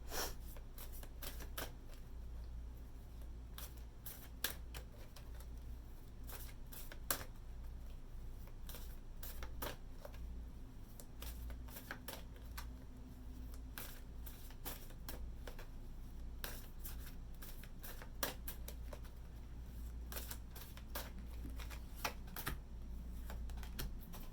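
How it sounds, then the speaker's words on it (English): Ethereal Visions tarot cards being shuffled and drawn: a quiet, steady run of soft papery flicks and taps, close to the mic, with no talking. "I'm going to pull 3 cards from my Ethereal Visions Tarot as advice cards"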